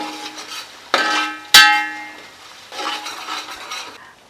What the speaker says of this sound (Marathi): आता आलं लसूण सुद्धा परतून घ्यायचं आहे आपल्याला.